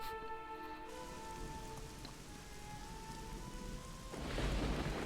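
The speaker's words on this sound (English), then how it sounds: "Boy, it sure is raining." Rain falling in the video game Dragon Quest XI, a steady soft hiss of rainfall under sustained musical tones, swelling louder and noisier near the end.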